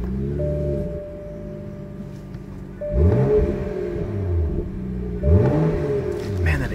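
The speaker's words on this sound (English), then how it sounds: "Man, that exhaust sounds great." Deep, throaty exhaust rumble from a BMW M235i with M exhaust, swelling in pulses, with revving surges around the middle and end, fairly close.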